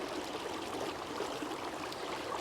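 Fast-running trout stream water rushes steadily and loudly, a dense unbroken wash close by with no pauses and no voices.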